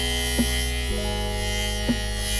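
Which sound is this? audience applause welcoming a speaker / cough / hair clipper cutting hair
hair clipper cutting hair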